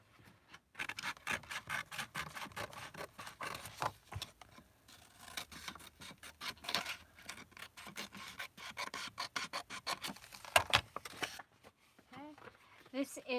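Scissors trimming the side of cardboard and magazine paper while making junk-journal embellishments: a long run of quick, close rasping snips and scrapes, steady and dense, with a brief pause before a few final cuts.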